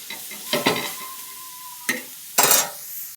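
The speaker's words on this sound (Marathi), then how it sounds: "त्यानंतर मग कांदा भाजून घ्यायचा" Onion roasting on a griddle gives a few short scraping and stirring bursts over a soft sizzle, close and moderately loud, with no talking.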